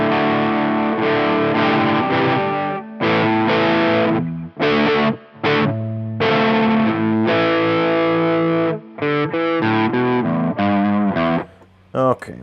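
A Pearson Hyper B Gen 5 electric guitar on its bridge pickup plays distorted, effects-laden notes and chords in short phrases separated by brief gaps. It is loud and up close.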